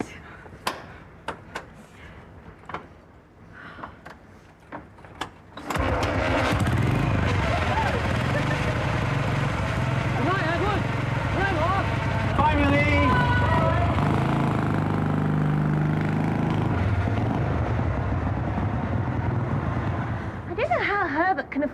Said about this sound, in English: I don't know how Herbert can afford a motorbike